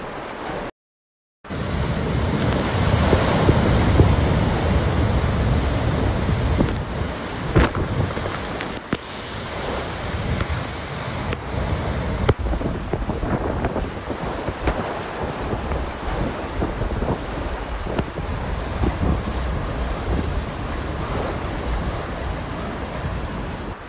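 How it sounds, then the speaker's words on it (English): Typhoon Nanmadol lashing the island of Kyushu in Japan, a steady roar of strong wind and crashing surf that buffets the microphone, loud and continuous after a brief cut at the start. "Typhoon Nanmadol hit the island of Kyushu."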